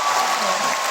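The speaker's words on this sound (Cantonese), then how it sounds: "大家俾啲掌聲佢哋啦" An audience applauds at a concert in Hong Kong's Coliseum, giving a dense, steady wash of clapping from a large crowd throughout the brief moment.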